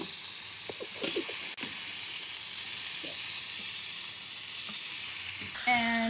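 A salmon fillet sizzles steadily in a hot frying pan after being flipped, a constant crackling hiss with small pops and a faint scrape near the end, no talking.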